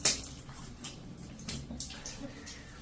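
During wudu ablution, a small amount of water splashes on a face in a few faint, soft splashes and drips, with a voice talking over them.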